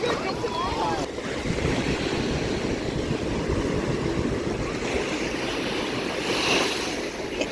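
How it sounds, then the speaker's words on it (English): Big ocean waves break on a beach in a steady, loud wash of surf mixed with wind buffeting the microphone, with faint voices in the background. "The waves are big today."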